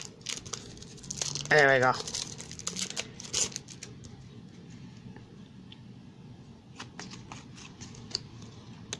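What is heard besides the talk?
opening Panini Premier League trading card packs and handling cards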